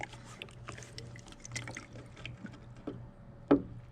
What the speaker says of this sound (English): I'm going to wet this thing down again.